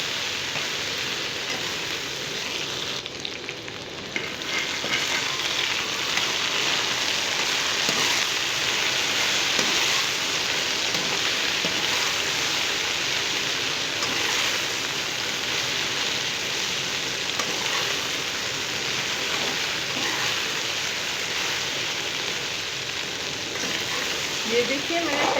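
Okra (bhindi) frying in a large amount of oil for crispy kurkuri bhindi, giving a steady, dense sizzle and crackle that runs the whole time at an even level, with faint background noise.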